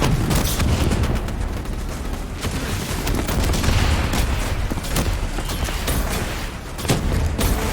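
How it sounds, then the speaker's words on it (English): Javelin missiles strike during a battle in the video game Call of Duty: Black Ops III, producing a dense, loud, continuous barrage of explosive blasts and rumbling booms with crackling debris, no clear pauses. "Brace for impact. Javelin missiles inbound."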